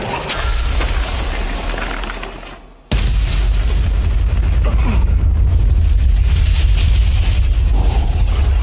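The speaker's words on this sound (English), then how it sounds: "No, it's an explosive fire spell instead." An explosive fire spell called Volcano detonates in an anime battle: a loud, crashing blast with shattering debris bursts in suddenly after a brief lull, then a sustained roaring rumble fills the rest of the moment, with no talking.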